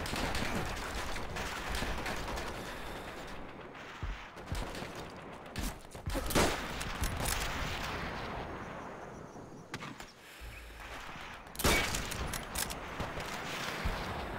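Rapid bursts of gunfire in Call of Duty: World at War crack and echo throughout, with a few sharp louder shots standing out amid continuous battle noise.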